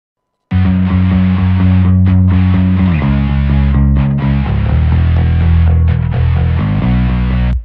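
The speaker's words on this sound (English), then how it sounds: "So I'm going to take a cut at the high end of the bass there" Rock mix with a bass guitar that has its high end cut so it sits apart from distorted guitars, a dense sustained wall of chords and low notes that starts abruptly and continues loudly.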